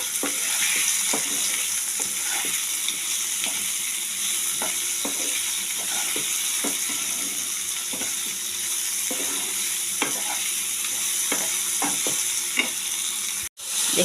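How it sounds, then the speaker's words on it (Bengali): Potatoes fry with turmeric and salt in a pan, a continuous loud sizzle overlaid by repeated scraping and clacking as they are stirred, cutting out abruptly just before the end. "এবারে আলু দিয়ে আমি একটু ভাজা ভাজা করে নিচ্ছি।"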